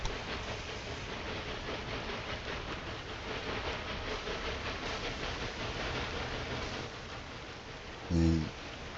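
A train running in the video game Railway Empire 2: a continuous rumbling roll with faint rhythmic clatter holds steady throughout, and a short tonal blip near the end rises briefly above it.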